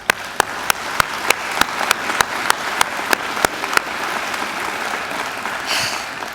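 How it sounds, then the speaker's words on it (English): Graduation ceremony audience applauds the graduates' families: a steady bed of clapping with sharp, evenly spaced single claps standing out for several seconds, then the crowd noise thins out. "So please join me in applauding our families."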